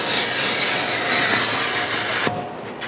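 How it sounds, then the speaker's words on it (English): A blade scraping an old gasket off a kamado grill, giving a continuous loud, close rasping scrape that stops abruptly near the end. "I'm gonna have to go around and scrape along with a blade"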